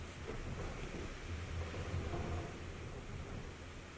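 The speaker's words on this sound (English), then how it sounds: "it is windy as hell today. So if you can hear that, that's what's happening." Low, steady roar of strong wind buffeting outdoors, gusting rumble with no voices, fairly faint overall.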